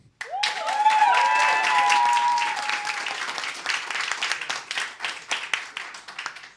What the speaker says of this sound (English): those of you who think we can upskill our way out of the climate crisis, please clap now